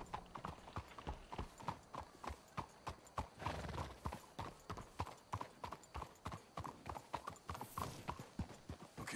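Horses clip-clop at a steady trot in Red Dead Redemption 2. Regular hoofbeats run through the whole stretch, close and clear, with a brief whinny partway through.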